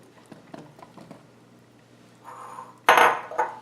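Pearl onions and halved mushrooms go into a pot of beef bourguignon: a few light knocks and clinks, then a louder burst of tumbling and clattering as they drop in, close by.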